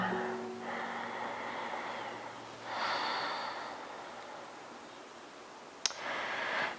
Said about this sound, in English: Let's enjoy another deep breath or so.